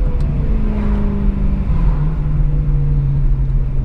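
A BMW M3 engine runs with a loud, close, continuous low rumble, its pitch shifting slightly upward partway through, with no voices over it.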